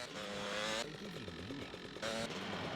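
A motorcycle in GTA Vice City Stories on PS2 revs and accelerates close up, with engine pitch rising and falling and two short bursts of louder roar.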